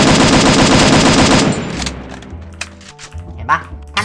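Rapid automatic gunfire from a Free Fire shooting game bursts loudly for about a second and a half, then gives way to scattered shots, game effects and quieter in-game noise.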